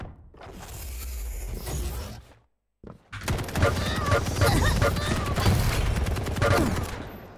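Rapid gunfire in the online video game Estoty, a dense crackling barrage that briefly cuts out, then resumes as a loud, sustained stream of shots.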